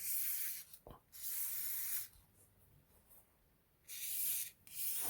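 Spray oil hisses onto the hammer spring of a CZ Shadow 2 competition pistol with its grips removed, in three close, steady bursts separated by short pauses.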